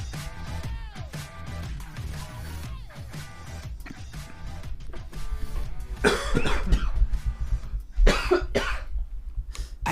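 Harsh, throaty coughs burst out loudly near the end, a couple of rough fits after a stretch of quieter tonal background sound.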